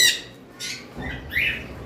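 A few short, harsh squawks from pet parrots sound close by, three or four separate calls over a quiet background.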